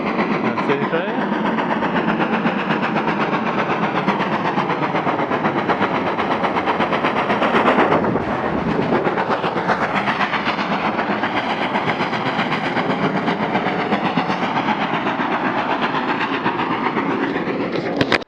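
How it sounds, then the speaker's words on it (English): A steam train runs along the coast into Dartmouth, a loud, steady rumbling roar with rapid rhythmic clatter that swells slightly midway and continues without a break. "that steam train running into Dartmouth"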